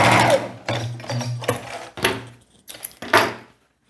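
A sewing machine stitches a strap seam on a viscose dress in close, loud bursts of rapid needle chatter separated by short pauses, ending in a brief mechanical clack.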